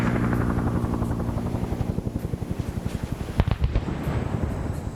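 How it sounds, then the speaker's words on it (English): In a Vietnam War video game, a helicopter's rotor chops in a fast, steady beat. Sharp explosive impacts cut through it, with one heavy blast standing out near the end, loud and close. "You can hear the impact of the round"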